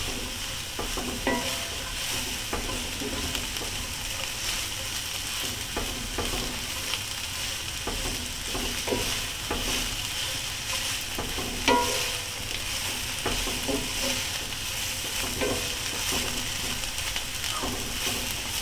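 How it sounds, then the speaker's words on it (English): Chorizo and eggs sizzle and fry steadily in a pan while a utensil stirs them continuously, with scraping clicks and taps against the pan throughout, close and alone with no voices. "You can let them sit a little bit longer in the pan and don't stir them as much as I do, but they have a tendency of burning, so I just like to keep them moving."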